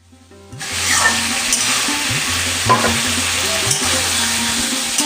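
Cauliflower and potato sauté in a hot pan with a sprinkle of water, producing a loud, steady sizzle that begins abruptly, with spatula scrapes and stirring knocks throughout.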